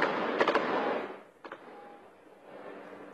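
Armed clashes in Jenin refugee camp: a quick burst of sharp gunshot cracks followed by another loud report, echoing over a rumbling background that slowly fades.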